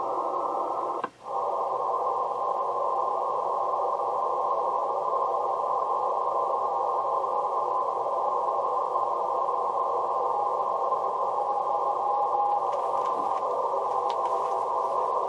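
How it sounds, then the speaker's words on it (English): W1AW amateur radio station received on the 10-meter band through a big loop antenna, a steady narrow tone held under a constant hiss of receiver noise with one brief dropout near the start. "So did you think I was going to hear W1AW on 10 meters? Believe it or not, it's there."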